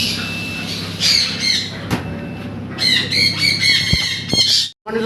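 Rubino rosella parrots and other fancy birds at a farm selling birds, chickens and cats give loud, repeated squawks and shrill calls in bursts, close by, with a sharp knock partway through.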